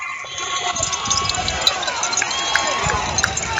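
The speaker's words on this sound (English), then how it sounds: "Payton's brought a big crowd out here" A crowd of Payton supporters cheering at a 16-inch softball championship game, a busy murmur of voices with scattered shouts and whistles at moderate distance.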